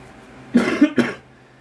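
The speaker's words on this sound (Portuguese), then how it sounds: "vocês vão aguentar um pouquinho minha tosse" A person coughs three times in quick succession, fairly close and clear, with a brief pause before the last cough and quiet room background around it.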